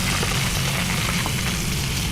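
Freshly caught fish sizzle in cooking oil in a pan, a loud, steady crackling fry that fills the whole moment with no voices.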